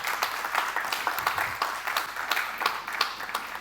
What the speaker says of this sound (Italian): Un applauso per favore.